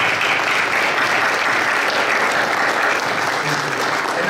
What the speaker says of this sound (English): please, a round of applause for all these people.